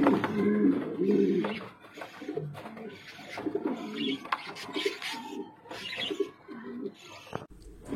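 Pigeons, including a healthy breeding pair, coo repeatedly in low, throaty bursts, with overlapping calls from several birds close by and some rustling in the background.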